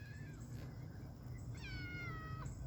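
Cats meowing indoors, a few drawn-out, rising and falling meows, faint and somewhat distant over a steady low background hum.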